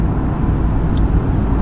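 Mercedes AMG GT tuned to 600 PS and 790 Nm, its engine droning loudly and steadily under road and wind roar as the car drives at speed, heard without talk.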